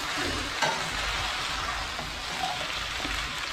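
Mango pieces are stirred into a dry Kerala aviyal in a non-stick pan. A steady, close sizzle and hiss carries through, with soft scraping stirs and a light knock near the start, and no talking.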